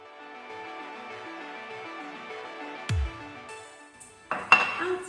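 Frozen raspberries tumble into a blender bowl in a home kitchen, giving a sharp clatter partway through and then a second burst of hard clinks near the end. The sounds are close and stand alone against a faint background hum.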